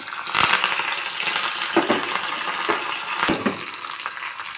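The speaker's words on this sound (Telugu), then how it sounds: "ఆయిల్ వేడెక్కింది పోపు వేసుకున్నాము కరివేపాకు పోపు గింజలు ఎండుమిర్చి" Curry leaves, mustard seeds and dried red chillies sizzle in hot oil for a tempering, with a close crackling fry punctuated by sharp pops and spatters, no voices.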